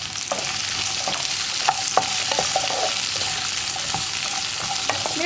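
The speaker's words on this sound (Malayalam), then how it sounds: "ഇതൊന്ന് നന്നായിട്ട് ഇളക്കി ഇതിലേക്ക് കുറച്ച് കറിവേപ്പിലയും കൂടി ചേർത്ത് കൊടുക്കണം" Onions, green chillies and curry leaves frying in a pan for potato masala, a continuous sizzle broken by frequent scraping stirs of a spoon, no talking.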